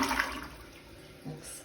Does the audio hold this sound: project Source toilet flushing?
yes